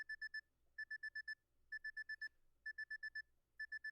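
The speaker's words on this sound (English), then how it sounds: "Why is my alarm going off?" A video game alarm clock in PacaPlus rings in quick bursts of four or five clean electronic beeps, each burst separated by a short pause and repeating steadily, with no voices.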